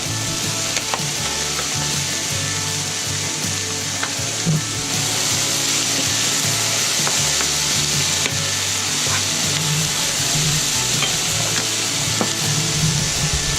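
Bacon frying in butter and oil for a bolognese cooked aboard a sailboat in Le Marin, Martinique, giving a loud, continuous crackling sizzle with occasional scraping stirs.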